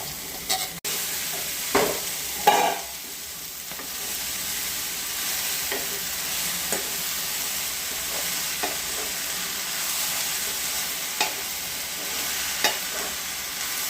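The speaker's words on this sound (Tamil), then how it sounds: "அதில் போட்டு நல்லா கொஞ்சம் வதக்கிக்கணும்." Chopped spinach (palak keerai) sautéing in a pan for a lentil kootu, giving a steady soft sizzle with a few louder stirring clatters early on and light scrapes throughout, no talking.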